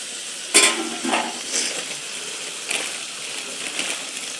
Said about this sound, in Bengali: এবার ডিমটা আমি এর মধ্যে কষে নেবো ভালো করে দিয়ে।